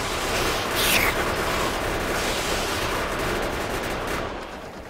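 Tank cannon firing in the Factorio video game, with a dense burst of explosive booms and rumbling blasts at the start that settle into a continuous loud roar of gunfire and engine noise.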